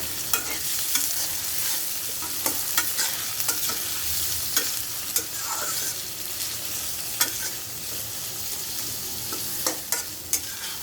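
Prawns and onion fry together in a pan, giving a constant loud sizzle broken by sharp, scattered spatula scrapes and taps as they are stirred slowly.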